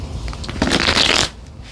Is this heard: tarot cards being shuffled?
yes